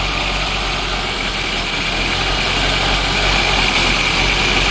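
A 1983 K-car wagon with a five-speed, revived after 30 years of sitting, idles steadily and fairly loud with a constant engine drone and broad hiss, no speech.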